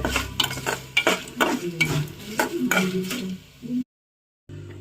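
Chillies and curry leaves sizzle in hot oil while a spoon stirs and scrapes the pan in repeated strokes, a steady close frying hiss under the clatter that cuts off abruptly near the end before resuming briefly.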